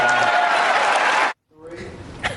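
Republican National Convention audience cheering and applauding a speaker, a loud dense roar of crowd applause that cuts off abruptly, falls silent, then returns more faintly with a voice over it.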